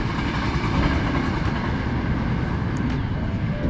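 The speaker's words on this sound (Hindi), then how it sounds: "और अभी जा रहा है ट्रेन" A train pulling out of Kyoto Station in Japan, a loud, steady rumbling roar of rolling stock filling the platform throughout, with faint higher squeals overhead and no talk.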